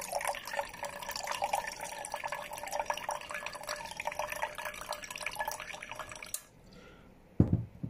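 Liquid is poured onto an Acaia Pearl coffee scale, a steady close trickle and splash running for about six seconds before cutting off, followed by a brief soft thump near the end.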